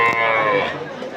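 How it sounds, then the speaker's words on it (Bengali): A dairy cow at the Chupar Haat cattle market in Kaliganj, Gazipur gives a short, falling moo at close range that fades into the surrounding market noise. "এখানে অনেক গাবি গরু দেখতেই পারতেছেন"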